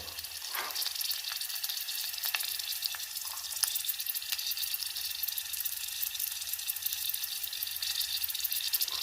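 Turkey berries fry in oil with split gram and asafoetida for a South Indian kuzhambu, a soft, even sizzle heard up close with faint crackles and no speech.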